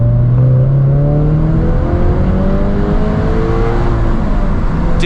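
A Subaru BRZ at full throttle, heard from inside the car: loud, steady engine drone whose pitch climbs through the gears with constant high roar throughout.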